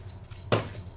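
Keys jangle in one sudden metallic burst as an assistance dog picks them up and fetches them, a short close rattle that fades quickly in a quiet room.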